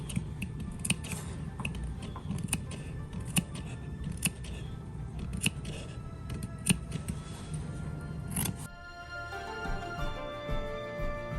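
Scissors trim fabric along the curved top edge of a homemade wallet with credit card slots, producing a close run of sharp, repeated snips and crisp clicks, then a softer rustle near the end.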